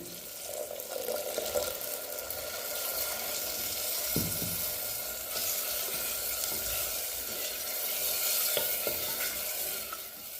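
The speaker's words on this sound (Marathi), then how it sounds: "त्यामध्ये थोडं पाणी टाकून घेऊया मसाले जळू नये म्हणून" A little water goes into sizzling masala for a clay-pot chicken curry, giving a steady close frying hiss with a brief splash and stirring clatter.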